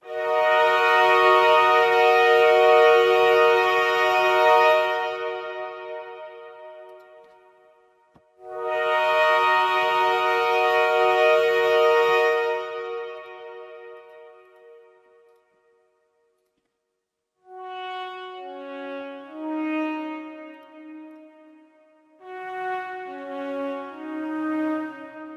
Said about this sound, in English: it's now playing these two solo instruments reversed along with the two solo instruments as an ensemble, not reversed.